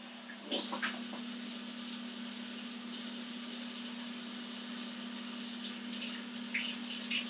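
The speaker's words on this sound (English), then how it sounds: "I'm going to wash my cutting board since I did have some fruit sitting on top of them" Tap water running steadily over a cutting board being washed in a kitchen sink, a soft continuous splash with a steady hum and a few brief clatters, fairly faint.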